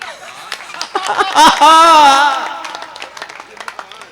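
A crowd at a Hindi comedy poetry recital breaks into applause and cheering, swelling loudly in the middle before settling into scattered clapping and murmuring voices.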